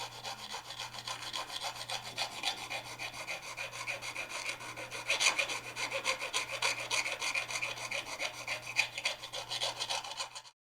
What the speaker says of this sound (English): Once the Sabi lacquer has dried, shape it using a whetstone file.